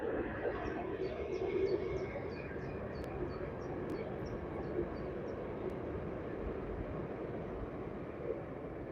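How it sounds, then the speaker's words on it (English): A train passes at a distance by a fishing lake, a faint steady rumble of rail wagons rolling past with birds chirping faintly above it. "Another train."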